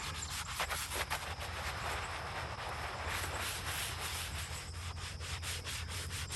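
A nylon-bristled brush lightly scrubs a veteran's headstone in a cemetery, a close, steady rasping of bristles on stone with repeated back-and-forth strokes and no voices.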